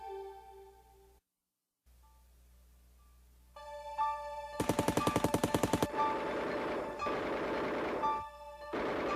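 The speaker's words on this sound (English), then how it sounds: "Al Capone and his enemies were fighting with a new weapon, the Tommy gun." Bursts of Tommy gun machine gun fire rattle out in a rapid, loud, evenly spaced string, set among other dramatic sounds after a short silence.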